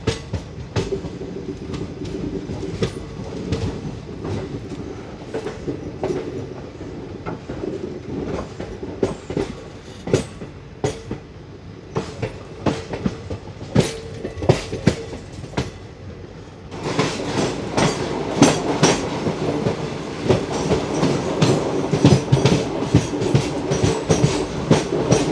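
A passenger express train in 3A sleeper class runs slowly into a hilly ghat section, its wheels beating a steady clickety-clack rhythm that grows louder and busier in the closing seconds.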